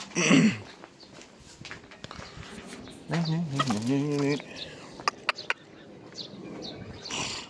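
Chickens cluck and squawk nearby in scattered bursts, with a drawn-out crowing call in the middle and some quiet human noise around them.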